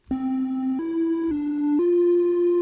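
A buzzy, harmonically rich wavetable synthesizer tone in noise mode with a gritty noisy edge, playing a few stepped notes that rise and fall slightly, sustained without pause.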